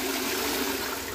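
A two-piece toilet flushing, with a steady, loud rush of water filling the whole moment, close and continuous with no pauses, no voices.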